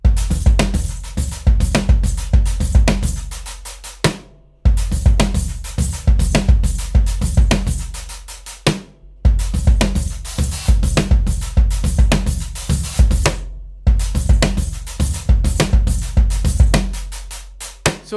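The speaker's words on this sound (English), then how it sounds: "So the drums themselves, without any effects and just a few mics on them, sound like this." Acoustic drum kit played dry with no effects and only a few microphones, busy grooves of kick, snare and cymbals in steady loud phrases with short pauses between them, no talking.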